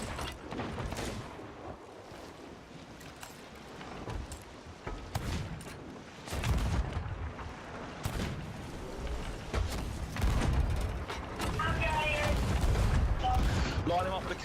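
Heavy ship cannon fire booms repeatedly in a chaotic Sea of Thieves battle against a megalodon, with loud blasts and crashes stacking up over a dense, noisy background.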